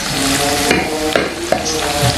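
Jengkol frying in a pan, a steady loud sizzle and crackle of hot oil with a few stirring clacks, no voices.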